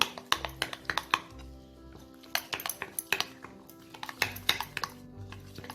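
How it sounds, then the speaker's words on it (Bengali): Paneer tikka marinade mixed briskly in a bowl, a spoon clinking and scraping against the sides in quick, uneven strokes, close and fairly loud with no talking. "এবার আমি এটাকে খুব ভালো করে মিক্স করে নেব।"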